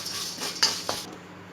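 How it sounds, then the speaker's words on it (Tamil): Dry-roasting cardamom pods in a pan, a spatula scraping and knocking against the metal with a couple of sharper clinks over a faint hiss, close and fairly quiet. "நெக்ஸ்ட்டு வந்து நம்ம ஏலக்காய் வறுத்துக்கிட்டு இருக்கோம்."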